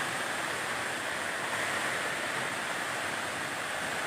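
Steady, full-bodied roar of Tibu Balad waterfall in forest near Munah Kangin village, constant and broadband with no breaks, heard up close without voices.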